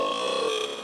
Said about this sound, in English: That was a rare burp.